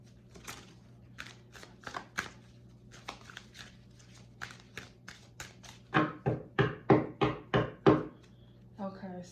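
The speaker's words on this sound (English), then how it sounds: "I'm just going to shuffle these 7 times." A deck of tarot cards is shuffled by hand, giving a long run of crisp riffling bursts, some quiet and scattered, then a louder regular series of about seven snaps close to the listener, with low room hum underneath.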